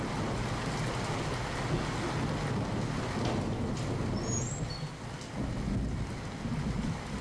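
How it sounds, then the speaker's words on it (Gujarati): Heavy rain pours down in Mahuva, Gujarat, in a dense, continuous hiss, with a deep rumble of thunder underneath; no voices. "ધોધમાર વરસાદ પડ્યો છે।"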